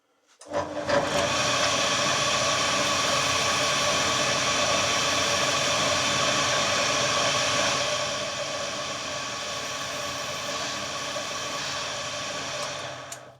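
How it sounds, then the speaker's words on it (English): An old knife blade has a bevel ground onto its front edge for a restoration. A loud, continuous abrasive grinding hiss starts abruptly, holds steady, eases slightly partway through and then cuts off. "I'll just bevel the front edge"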